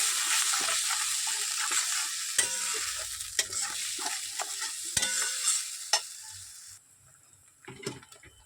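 Ground spices and katla fish curry sauté in a pan with a splash of water. A bright, busy sizzle fills most of the clip under repeated scraping stir strokes, then drops to a quieter simmer near the end.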